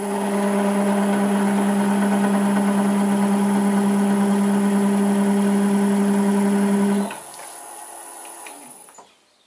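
A lathe turning at about 500 rpm with a spiralling tool on the work gives a steady, loud mechanical hum with a tonal whine. It runs evenly for about seven seconds, then cuts off and fades out as it winds down.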